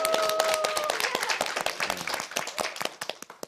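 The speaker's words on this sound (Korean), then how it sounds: "박수로 환영해 주십시오." An audience claps to welcome a guest onto a Korean church Bible-class TV program, dense applause at first that thins into scattered claps, with a brief tone at the start.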